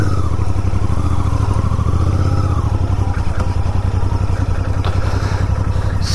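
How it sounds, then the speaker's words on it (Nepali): A Royal Enfield Interceptor Bear 650 motorcycle engine runs up close and loud, a deep, rapid, even twin-cylinder thump that holds steady with slight rises in revs, heard alone without talk. "दिस इज इट र royal एनफिल्डको interceptor beer 650 recently lunch भएको"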